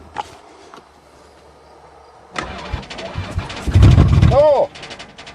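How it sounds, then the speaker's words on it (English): A van engine cranks and tries to start: a few short clicks, then a loud rough churning burst of turning over near the vehicle, with a voice heard briefly. "Before I get too settled, I'll see if it even cranks."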